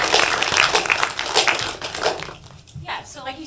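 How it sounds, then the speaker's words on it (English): An audience at a city planning meeting claps for a speaker. The applause is dense and steady, then thins out as voices begin to talk over it. "Can everybody clap for Jennifer Marks?"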